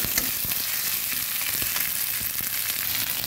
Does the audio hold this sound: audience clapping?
no